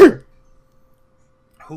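A single sharp human sneeze at the very start, close and loud, followed by near silence and then a brief spoken voice at the end.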